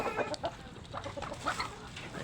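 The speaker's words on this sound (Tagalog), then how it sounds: "May mga manok." Several chickens, including Rhode Islands, cluck softly nearby, short irregular clucks overlapping in a quiet farmyard where turkeys are also kept.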